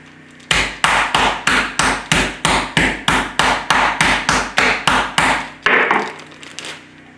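A meat mallet pounds raw chicken breasts flat, about fifteen loud, evenly spaced thuds in a steady rhythm, close up with no talking.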